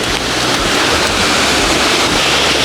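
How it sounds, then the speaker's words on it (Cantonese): Horseshoe Falls in Mount Field National Park, Tasmania, gives off a continuous, even roar of rushing water, loud and unbroken throughout, with no voices. "你離遠已經係聽到啲瀑布聲啦"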